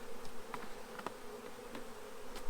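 A swarm of bees buzzes during a hive transfer, a faint, steady hum with individual bees flying past in brief, louder passes, no voices.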